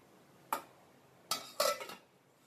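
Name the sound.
lid placed on cooking pot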